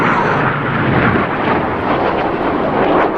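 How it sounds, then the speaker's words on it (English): Seven RAF Red Arrows jets pull up to the vertical at an air show in New York, a loud, steady, broad jet-engine roar with wind buffeting, filling the whole span. "7 aircraft pulling to the vertical, about to make a beautiful palm tree."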